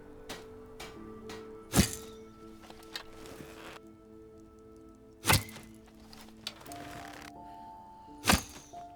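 Arrows fired at a target in the video game Enderal land with sharp, woody thunks, three distinct hits spaced a few seconds apart, over faint ambient music tones.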